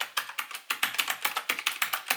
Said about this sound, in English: it just feels good when you hear the sound of the typing